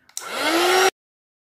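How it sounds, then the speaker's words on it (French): A heat gun drying paper gives a steady, loud blowing whine with a rising hum that starts abruptly, runs for under a second, then cuts off into silence. "Maintenant, ce que je vais faire, c'est que je vais sécher avec un heat gun."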